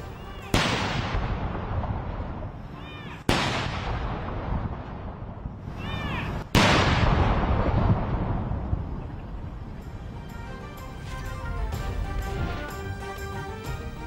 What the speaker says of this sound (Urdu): ہائیڈ پارک میں تابوت کو 38 توپوں کی سلامی۔